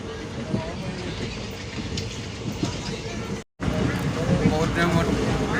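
Inside a crowded moving passenger train, a steady rumbling carriage drone with rattles, a brief dropout, then a louder continuation, with people talking over it.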